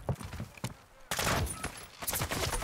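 Shotgun blasts in Modern Warfare 2, a few heavy booming shots separated by short gaps, loud and close amid game noise and faint voices.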